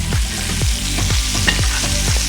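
Bacon-wrapped pork tenderloin sizzles loudly and steadily in a hot pan, with a series of regular stirring or basting scrapes and clinks repeating throughout, no voices.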